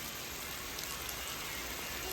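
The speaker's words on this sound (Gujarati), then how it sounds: "વરસાદ આવી ગયો" A steady rain shower falls outdoors as a soft, even, continuous hiss with no breaks and no voices.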